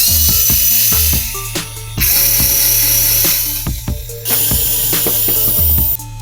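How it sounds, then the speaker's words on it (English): Screws are removed from the front end of a Yokomo MD 1.0 RC car, likely with a power screwdriver: repeated loud bursts of whirring with ratcheting clicks between them, close up and without talk. "We can now take out 1, 2, 3, and 4 screws, and that will release the whole front end assembly from the main chassis."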